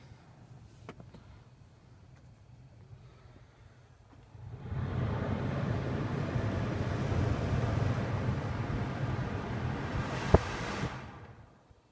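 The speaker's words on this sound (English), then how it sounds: "Just done a test blowing all different fans out the bottom, out the top, out the vents, and switched itself off." Ventilation fans of a Honda CR-V running a self-test, a quiet idle hum that jumps to a steady rushing blow of air for several seconds, then fades away, no talk.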